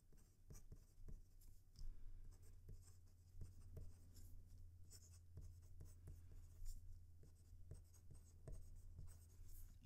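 Fountain pen nib scratching across paper in short strokes, faint and close, with a low steady hum underneath and no talk.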